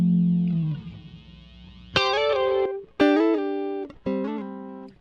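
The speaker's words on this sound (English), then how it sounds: "So another characterful type of lead guitar sound, different than what we had in the first example." An electric lead guitar plays sustained, distorted notes in separate phrases, each ringing out with a wide, shimmering digital reverb tail.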